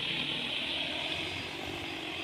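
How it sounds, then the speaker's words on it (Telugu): A steady, droning rotor hum hangs overhead, constant and fairly loud, from an agricultural spraying drone hovering over a pond choked with water hyacinth, with no voices. "చూస్తుంటే హెలికాప్టర్ మాదిరి సౌండ్ వస్తూ ఉంది"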